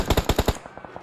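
In the mobile battle royale game BGMI, a rapid burst of about six loud gunshots fires in quick succession, followed by fainter echoing shots trailing off.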